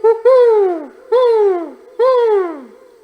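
A voice imitates an owl, giving three long falling hoots, loud and close, each followed by a short silence.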